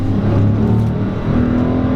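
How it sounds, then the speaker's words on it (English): A 2016 Dodge Challenger R/T engine revs and pulls hard accelerating in second gear on a back road, a close, throaty drone rising in pitch over two seconds. "we're gonna go ahead and just roll onto it in 2nd gear,"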